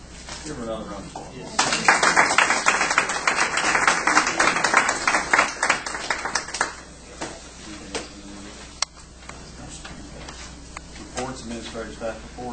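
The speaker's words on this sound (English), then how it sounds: "Give her another round of applause." A meeting audience at a board of education session breaks into a burst of clapping that swells, holds for several seconds, then thins out into scattered claps, with people talking faintly before and after.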